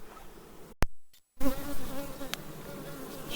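Dense buzzing of many honeybees close by at a hive, a steady droning hum broken by a brief gap of near silence before the swarm sound returns.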